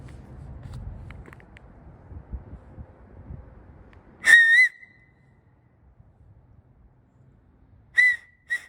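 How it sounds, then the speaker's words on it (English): Two sharp, loud whistles ring out alone after a stretch of quiet street noise, used as a signal call on a street tied to gang activity in California. "we're gonna hit some whistles,"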